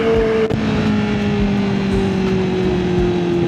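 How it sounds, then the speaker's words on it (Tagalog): A Honda CB650R inline-four motorcycle engine holds a high, steady rev, loud and close, with the pitch sliding gently downward across the whole stretch and no talking. "satisfying talaga ang high RPM ng Simi dahil napakabarako ng tunog ng inline 4 niya"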